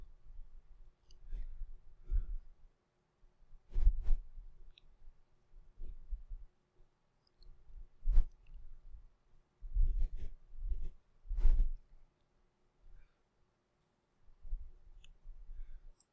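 Scattered mouse clicks land near the microphone while working in an Excel spreadsheet, arriving singly and in short irregular clusters with quiet gaps between them.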